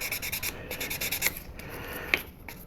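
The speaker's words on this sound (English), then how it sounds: "I've been sanding this tubing for about 30 minutes" Steady rasping and rubbing strokes, close up, with a few sharper scrapes, as sandpaper is worked back and forth over hard plastic tubing on a 1/72 scale model kit.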